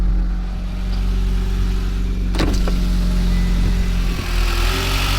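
A rebuilt Mitsubishi Lancer Evolution X engine runs steadily at idle, a loud, close, continuous rumble with a low droning tone, broken once by a brief sharp click, with no talking.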